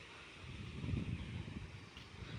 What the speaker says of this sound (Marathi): वाऱ्याचा आवाज आहे